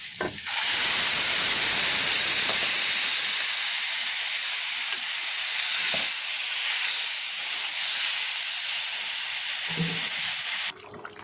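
Boiled bitter gourd, drumstick and green mango hit hot mustard oil with fried onion and garlic in a kadai, giving a loud, sustained steam hiss that starts abruptly, holds steady for about ten seconds, then cuts off.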